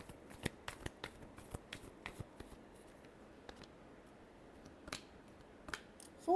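Tarot cards are shuffled by hand in a quiet room, a series of soft, crisp riffles and taps in an irregular rhythm, close and fairly faint, with no voices.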